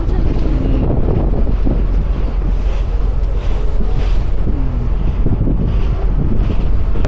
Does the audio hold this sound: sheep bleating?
no